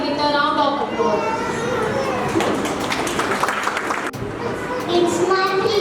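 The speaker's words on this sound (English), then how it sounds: "Let's welcome her with a round of applause." An audience at a kindergarten graduation gives applause, a steady wash of clapping running for several seconds beneath child chatter and crowd noise.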